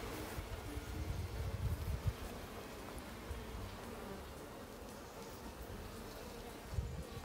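Honeybees at an open Buckfast beehive give a continuous, dense buzzing hum close by, with faint rustling underneath and no talking.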